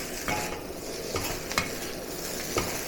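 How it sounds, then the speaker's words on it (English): Beef fried rice tossed in a wok over the highest heat, a dense constant sizzle punctuated by a few sharp spatula scrapes against the metal, close and unaccompanied by speech. "stir over high heat to generate as much wok aroma as possible"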